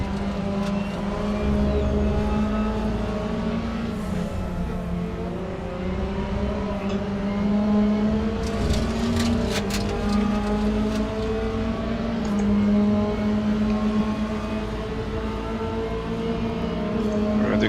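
Race cars in the video game RaceRoom during an online race, a close engine whine holding steady tonal pitches that shift as gears change, with brief sharp clicks and bursts scattered through.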